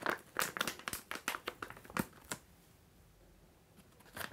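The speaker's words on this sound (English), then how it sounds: "you can roll the bandage back up and reseal it in the foil" A Physicool cooling bandage is rolled up and tucked back into its foil pouch, producing a quick run of crisp foil crinkles and rustles that trail off into near quiet, with one last crinkle at the end.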